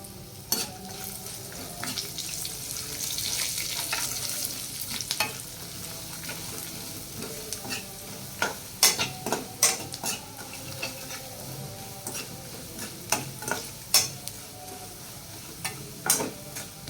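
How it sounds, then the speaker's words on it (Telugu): Sliced bitter gourd deep frying in hot oil gives a steady sizzle, with repeated sharp clicks of a utensil stirring and scraping the pan, all at close range with no talk. "ఇలా నూనెలో డీప్ ఫ్రై చేయాలి"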